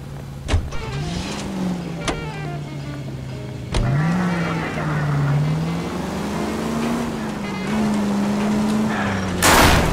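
A car driven in the 1940s Los Angeles detective game L.A. Noire, a steady engine drone rising and falling with gear changes and a few sharp knocks, close and continuous.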